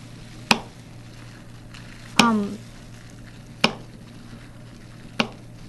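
A knife cuts peppers for salsa on a board, four separate sharp chops spaced about a second or more apart, each a crisp close knock with a short ring after it.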